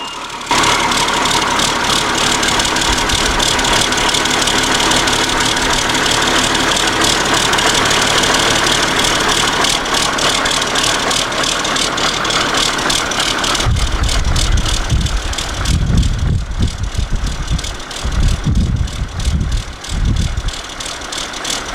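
A BR 400 snow groomer with a rebuilt engine runs steadily with a loud, rattling diesel drone, then rough low thumps and knocks come through near the end as the machine shifts load.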